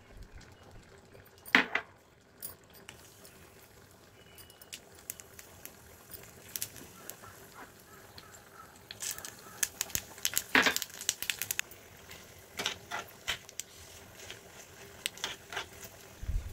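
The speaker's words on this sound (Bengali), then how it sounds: "এতে 1 চামচ তেল দিয়ে 2 টুকরো তেজপাতা, 2টো শুকনো লঙ্কা চেরা ও 1/2 চামচ 5 ফোড়ন দিয়ে ফোড়ন দিলাম।" Bay leaves, split dried chillies and panch phoron five-spice frying in a spoonful of oil in a small tempering pan: quiet, sparse crackles and sharp pops, with a few louder spits.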